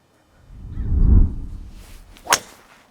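A golfer swings a new Cobra AeroJet driver during a fitting at Bear Creek Golf Club: a low rushing swoosh builds and fades, then one crisp, sharp impact crack rings out near the end.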